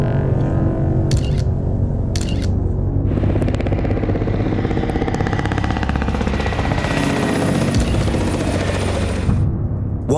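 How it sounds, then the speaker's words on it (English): Black helicopters passing close overhead near a house, a loud chopping rotor roar that builds and sweeps across, with a few sharp camera-shutter-like clicks at the start. "the infamous black helicopters appeared, flying very close to his house."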